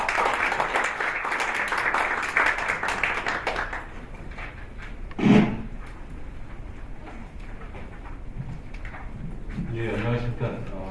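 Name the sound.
audience applause at a lecture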